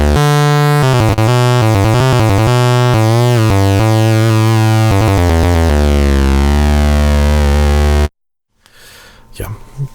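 Korg synthesizer patch mixing saw, square and pulse waves, a loud, dense buzzing tone stepping through a series of sustained and rapidly changing notes for about eight seconds, then cutting off abruptly into near silence with faint noise.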